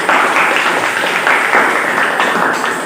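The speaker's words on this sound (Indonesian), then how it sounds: "Tepuk tangan untuk kelompok 2." Classroom applause from students for a group that has just presented, a dense, steady wash of many hands clapping close by for about three seconds with no talk over it.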